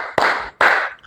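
Two crisp hand claps about half a second apart, close and loud, ringing briefly in a room during a counted clapping exercise.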